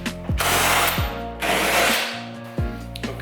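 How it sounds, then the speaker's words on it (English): A handheld power drill spins out the bolts holding a car seat, for fitting Schroth 4-point harnesses: several loud, close whirring bursts, each ending in a ratcheting wind-down, with brief pauses between them and no talking. "I'm just using my drill to kind of speed things up a little bit."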